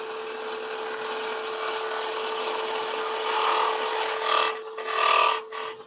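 A skew chisel cuts wood on a lathe while a small snowman is being turned, making a steady spinning whir with a scraping rasp that grows rougher in short bursts toward the end.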